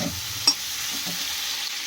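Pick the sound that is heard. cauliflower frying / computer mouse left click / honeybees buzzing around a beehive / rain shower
cauliflower frying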